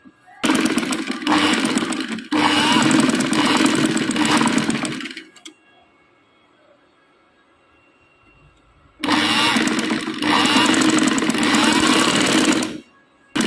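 An electric sewing machine stitches the neck strip of a kurti in two loud, steady whirring runs, each about four seconds long, with a quiet pause between them.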